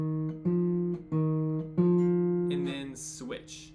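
Fingerpicked guitar notes ringing out on a bass-note alternation pattern, a few sustained plucks a second apart, close and clean, with a brief bit of speech at the end.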